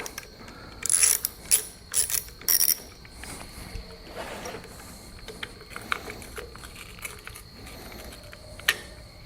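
A hand ratchet loosens bolts on the handlebars of a Harley-Davidson Softail Standard during a drag bar upgrade. Quick bursts of close metallic clicking come early, then quieter scattered mechanical ticks follow, with no talking.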